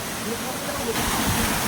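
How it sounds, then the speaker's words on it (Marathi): A waterfall near Matheran hill station roars as a steady, dense wash of falling water, loud and continuous, with a faint voice beneath. "धबधबा आला इथं. धबधबा बघून घ्या एकदा."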